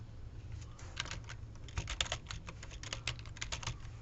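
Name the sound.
typing on a computer keyboard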